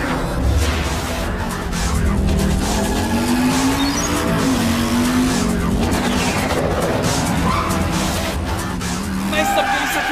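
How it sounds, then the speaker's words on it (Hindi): An animated turbo power bike speeds out of control, its engine whining and tires screeching in a long sustained skid, loud and continuous with faint voices at the edges. "मेरी टर्बो पावर बाइक को इफेक्ट कर रही है, ये आउट ऑफ कंट्रोल है।"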